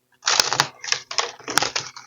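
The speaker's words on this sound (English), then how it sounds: "Give it a little shuffle." A deck of tarot cards being shuffled up close, a rapid, fluttering clatter of cards in three or four quick bursts lasting about two seconds.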